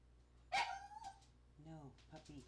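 A puppy yips and barks in two short bursts, a sharp high yelp followed by softer whimpering barks, close and moderately loud amid quiet background.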